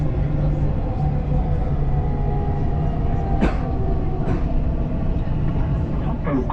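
A Dubai Metro train runs between stations with a steady, loud interior rumble, marked by a few brief metallic squeals from the rails.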